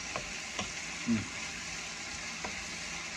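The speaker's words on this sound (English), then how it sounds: "We've got some wonderful peppers and onions that are cooked together." Peppers and onions fry together in a pan for Thai cashew chicken, giving a steady close sizzle and hiss with a few soft stirring clicks and no talking.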